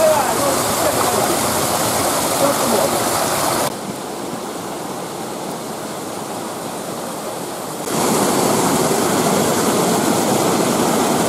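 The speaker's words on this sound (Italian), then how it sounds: "È la cascata del piccolo canyon," Waterfall in a small canyon in the Aspromonte mountains near San Giovanni di Gerace, a steady broadband rush of falling water that drops in level for a few seconds mid-clip before returning loud; a voice talks over it.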